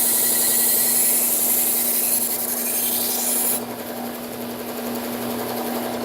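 Calphalon kitchen knives drawn across a sharpener, a steady close rasping and grinding rub that runs continuously, shifting in tone partway through and carrying on a little quieter to the end.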